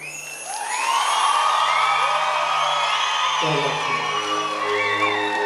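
Audience at an HPP police band performance at the International Minjar Fair cheers and whoops loudly, a dense crowd roar with shouted voices rising over a sustained low tone, then continuing as a steady wash.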